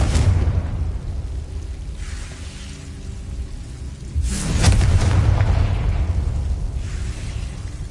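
A Confringo fire spell from the Hogwarts video game bursts with a loud booming explosion around the midpoint, trailing into a sustained rumbling roar, with a smaller whooshing burst before it and another after.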